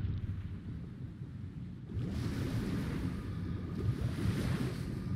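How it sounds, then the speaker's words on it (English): Water waves in Final Fantasy XIV, a continuous rushing wash of surf that swells louder partway through, steady and close with no voices. "Uh-oh, there's that water."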